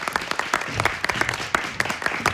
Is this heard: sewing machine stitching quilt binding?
no